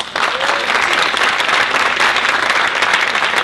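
Sustained audience applause fills a room at a sales talk in Atlanta, a loud, dense wash of many hands clapping at once from start to finish with no talk over it.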